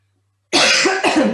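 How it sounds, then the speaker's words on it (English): A single harsh cough bursts out after a brief silence during a yoga class, followed quickly by a second, close and loud, with no talking. "I'm really coughing today."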